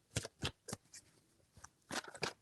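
Tarot cards shuffled in several quick bursts, crisp riffling swishes spaced apart, close and quiet with no talk.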